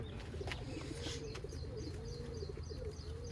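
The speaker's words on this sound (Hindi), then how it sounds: "बाजियों के उड़े हुए हैं जी कबूतर।" Pigeons kept by a fancier coo steadily in a loud, continuous chorus, with faint chirps and possible wing flutters mixed in against a constant low background hum.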